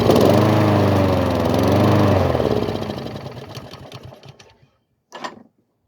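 Honda lawn mower engine running after its carburetor was reinstalled: a loud, close, steady putter that wavers in speed, then winds down and stops, followed by a short clunk.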